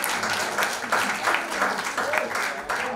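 Audience applause for the sound engineer at a Qawwali night, a steady wash of clapping filling the whole stretch with faint voices mixed in.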